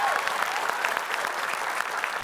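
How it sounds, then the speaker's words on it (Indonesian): Steady applause from a crowd, a dense patter of clapping that continues evenly throughout at moderate distance. "Makanya kita beri tepuk tangan."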